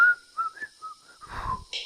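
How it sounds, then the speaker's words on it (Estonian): A person whistling a short, wavering tune alone, with a few rising and falling notes and a brief breathy noise toward the end. "ma ei oska eriti vilistada"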